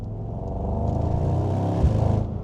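Engine of a Mercedes-AMG GT63 Coupe while driving, a low, steady throaty drone with a slight swell and pulsing texture, heard from inside the car.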